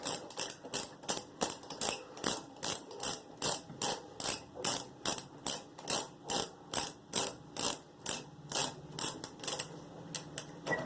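A ratchet wrench tightens a bolt on a Cub Cadet lawn mower, sounding as a steady run of about two dozen crisp, close clicking bursts in regular rhythm over roughly eleven seconds, with no talking.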